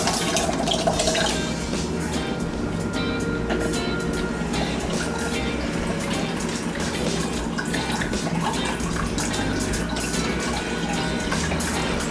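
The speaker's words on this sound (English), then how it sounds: "Now for the rum, we're gonna use about half of this bottle." Rum is poured into a Jamaican rum punch, making a steady, continuous splashing pour that runs unbroken and fairly loud for about twelve seconds.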